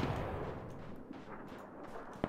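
Gunfire crackles from all sides in the shooter game Ring of Elysium, a dense, muffled wash of distant shots and rumbling with a sharper crack near the end, and no talking.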